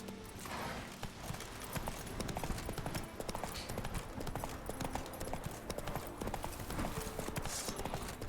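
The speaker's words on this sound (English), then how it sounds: "Run, Roach" Horse hooves clip-clopping steadily at a gallop in The Witcher 3, a continuous rhythmic drumming alongside game ambience and a speaking voice.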